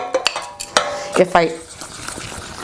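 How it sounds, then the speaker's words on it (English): An egg mixture is whisked into chicken broth in a pot, with several sharp metallic clinks and taps of the whisk against the pot early on, then softer, quieter stirring. "now I'm going to put it into the broth, and I'm going to whisk the whole time so I get shreds"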